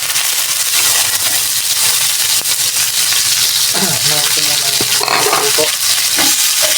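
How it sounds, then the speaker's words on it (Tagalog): Tomatoes fry in a hot pan with a loud, steady sizzle, stirred now and then with scraping, clattering strokes near the pan and no talk. "Ito kamatis, lutuin ko muna."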